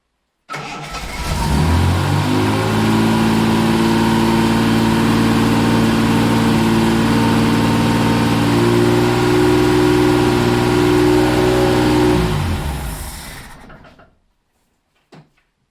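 A Reliant Scimitar GTE SE6A classic car engine starts and runs loud and close at a steady, even idle for about eleven seconds, then cuts out and winds down to silence, ending with a brief knock.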